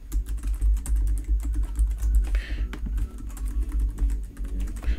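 Typing a password on a computer keyboard: rapid, close, irregular key clicks in a steady stream, fairly quiet, with no talking.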